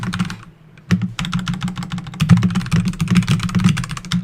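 Rapid, uneven typing on a computer keyboard, close and fairly loud, with dense clusters of key clicks running almost nonstop after a brief pause near the start.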